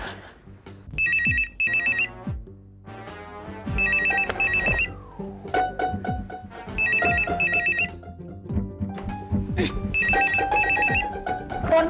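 A phone ringtone plays in repeated bright melodic bursts, loud and close, with background music and sounds running underneath, set in a scene from the Hindi TV serial Apna Apna Style on Zee TV.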